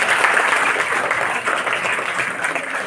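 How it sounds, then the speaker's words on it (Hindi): Applause from an audience at a public event on a waterlogged ground, a steady dense patter of clapping that holds at an even, fairly loud level throughout with no talk over it. "बजाओ ताली।"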